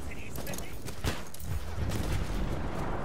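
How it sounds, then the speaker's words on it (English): Grenade blasts and gunfire in a 32v32 Battlefield hardcore conquest match on Xbox One, a couple of thumps within a dense, continuous wash of distant combat noise and crackling shots. "Crazy Bones there, just attempting a couple of random grenades"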